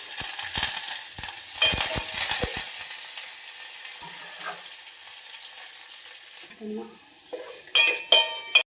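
Garlic and curry leaves fry in a pan for a tempering, a steady sizzle with scraping stirs and metal clinks of a spoon against the pan, loudest early, with a final burst of clatter.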